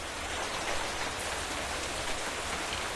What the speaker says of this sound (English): The stupid rain sounds through here are pretty annoying.